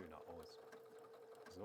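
A W6 N 8000 sewing machine stitching a blanket stitch along a fabric edge, a close, steady mechanical hum with rapid needle clatter, running continuously.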